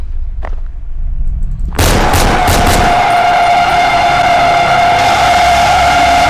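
Loud gunfire bursts out in a horror shooter game, with a sharp blast and a few rapid follow-up shots, then a sustained roaring, whining din that carries on to the end.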